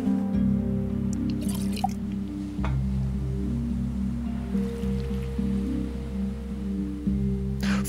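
Liquid filling a container in the survival game Stranded Deep, a loud sloshing, dripping stream over layered game ambience and background music tones, continuous for several seconds.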